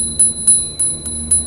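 A small handlebar bell on an AOVO M1 Pro electric scooter rings in five quick, bright dings, evenly spaced and close, over faint background hum.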